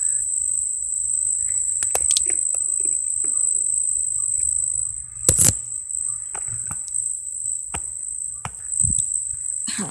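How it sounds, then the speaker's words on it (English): A cicada in nature gives a loud, unbroken high-pitched buzz that runs the whole time, with scattered clicks and rustles of someone walking nearby. "I think this is a cicada."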